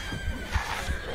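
A horse in the video game Resident Evil Village neighs, a brief, fairly loud whinny with shaky, trembling pitch, lasting about a second with a few low thuds beneath it.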